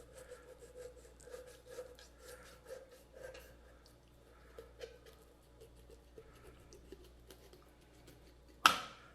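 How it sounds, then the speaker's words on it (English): A kitchen knife cutting down the backbone of a whole raw chicken, close quiet rasping and crunching strokes in short bursts, ending with a sharp clack. "So what we're gonna do is cut it down the backbone here,"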